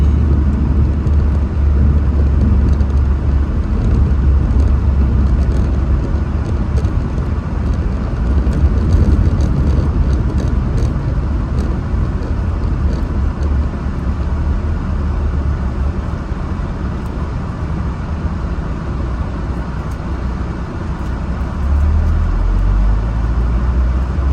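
Road traffic on Highway 76 makes a steady, loud, continuous rumble of passing vehicles that stays level throughout, with no voices.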